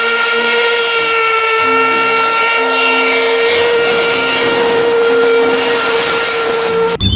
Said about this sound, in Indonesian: Muncullah kereta api lokomotif.